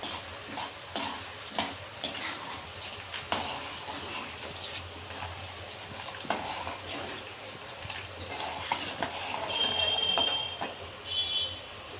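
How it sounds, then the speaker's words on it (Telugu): Chana dal frying in hot oil for an Andhra-style coconut chutney gives a steady, close sizzle with scattered stirring clicks and scrapes, growing a little louder and busier toward the end, with no talking. "చెనపప్పు వేసుకుందాం వేగినాయండి ఇప్పుడు చెనపప్పు వేసుకుందామండి"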